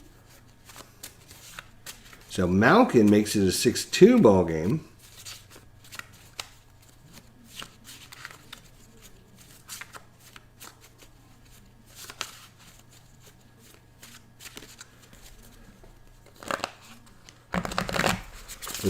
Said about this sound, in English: I need to shuffle my deck.